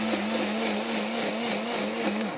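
A portable mixer grinder fitted with a jar runs steadily, its motor whine holding an even pitch with a slight wobble. The sound is close, loud and continuous, with no one speaking.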